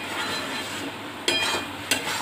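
Semolina halua is stirred steadily in a hot pan while it dries out, a continuous close sizzle with two sharper scraping strokes of the spoon against the pan bottom, and no talking.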